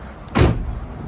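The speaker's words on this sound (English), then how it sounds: "So now I'm gonna try to open it from the inside." Rear door of a Ford Transit 250 van, opened from the inside, gives one short latch clunk and thud, fairly near, followed by a brief rattling decay against quiet background.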